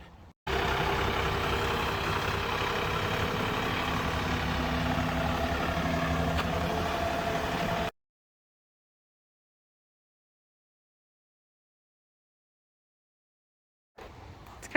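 A John Deere 3046r compact tractor's engine runs with a steady, loud, low rumble for about seven seconds, then cuts abruptly to silence before a brief return of sound at the end.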